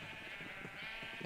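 Sheep bleating on a Minecraft sheep farm packed with penned white sheep, a steady overlapping chorus of game bleats filling the whole moment at moderate loudness.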